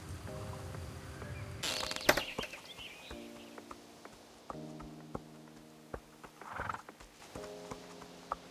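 Horses being turned out of a barn walk with a scattered series of hoof clip-clops, fairly quiet and close, with a brief neigh and some rustling in an otherwise calm setting.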